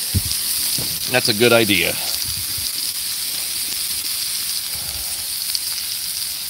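Onions sizzle on a Blackstone griddle outdoors at Whitefish Lake, a steady hiss running throughout while someone speaks briefly over it near the start.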